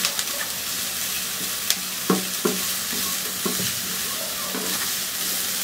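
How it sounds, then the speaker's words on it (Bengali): Chopped vegetables, including carrots, onion and spring onion, stir-frying over high heat for Chinese vegetable fried rice: a continuous loud sizzle with scattered scraping and tapping of the stirring utensil against the pan, close, with no voices. "আমি হাই হিটে রান্না করতেছি, চাইনিজ খাওয়া সবসময় হাই হিটে রান্না হয়"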